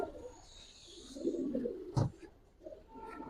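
Giribaz and racer pigeons coo softly nearby, low throaty murmurs with a sharp knock partway through and faint background hiss.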